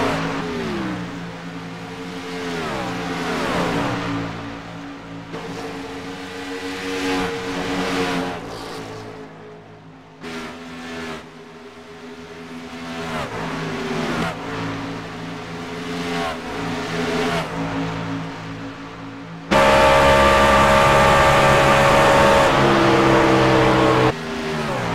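A race car runs fast laps around the Kansas oval, its engine roaring and rising through the gears, fading and returning as it circles. Near the end there is a loud close onboard engine whine.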